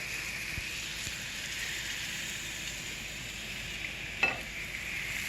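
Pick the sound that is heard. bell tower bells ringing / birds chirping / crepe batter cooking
crepe batter cooking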